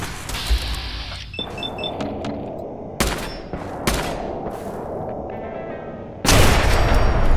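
Gunfire in the video game Fallout 4, aimed at a chain on a locked door: sharp, loud shots at irregular intervals, some in quick bursts, ending in a heavy sustained roar of fire.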